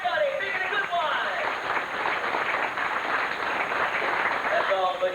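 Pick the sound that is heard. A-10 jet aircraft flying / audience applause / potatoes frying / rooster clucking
audience applause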